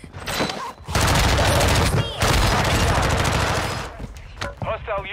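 Rapid automatic gunfire in the video game Call of Duty Warzone, loud sustained bursts with brief pauses, ending in lighter game effects as a voice talks over it.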